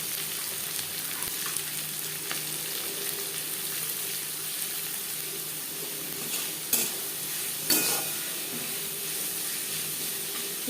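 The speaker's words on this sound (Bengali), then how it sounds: "ভেজে নেওয়া কড়াইতে আবারও তেল দিয়েছি। দিয়ে দেব পেঁয়াজ কুচি।" Chopped onion frying in oil in a wok, a steady sizzle running throughout, moderately loud and close, with occasional stirring scrapes and a couple of sharper clinks of a utensil against the pan.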